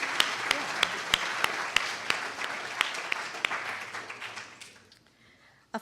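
An audience at a collegiate startup competition applauds, with sharp individual claps standing out over a dense patter that gradually thins and dies away to near silence.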